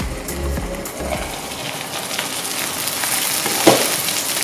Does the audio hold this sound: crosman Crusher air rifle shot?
no